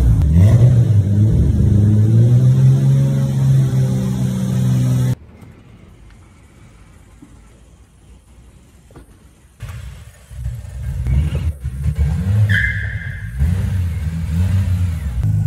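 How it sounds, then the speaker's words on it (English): A Toyota Supra engine revs loudly and steadily at close range, drops away to near silence, then returns with fluctuating engine noise as the car moves off. "First time Supra's going out for a little spin."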